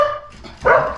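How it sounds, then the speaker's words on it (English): Dogs bark close by outdoors, one short loud burst of barking at a house on a cold snowy day, following a quieter stretch of faint background noise. "They just bark."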